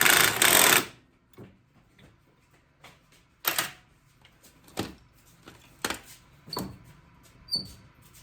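Tightening the top bolt on a Cub Cadet lawn tractor's steering: a loud, harsh burst of metal noise, then a series of separate sharp clicks and scrapes spaced about a second apart, close to the listener.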